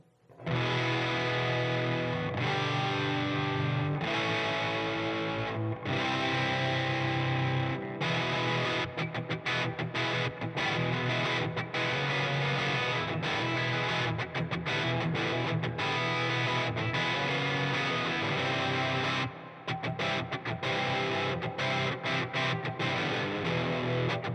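A thick, fuzzy electric guitar through a Siren Pedals Airavata distortion pedal plays loud sustained chords and riffs with a heavy, saturated tone, with brief choppy stops partway through.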